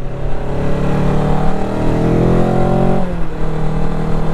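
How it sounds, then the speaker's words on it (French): A Jedi GT 750 motorcycle engine revs up loudly and close, rising in pitch, then drops back abruptly near the end before climbing again; a steady, throaty roar throughout. "le moteur qui avait un bruit assez profond, un bruit très vite sec"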